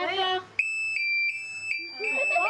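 A loud, piercing electronic alarm beeps in several sustained bursts, close to the microphone, with people talking just before and after it.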